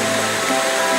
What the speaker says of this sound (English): Climbing the waterfall.